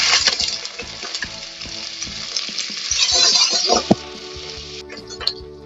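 Ginger and garlic fry in hot oil with bay leaf, cinnamon, cloves, cardamom and peppercorns for chicken biryani, a close, steady sizzle broken by the scrape and clink of a stirring spoon against the pan.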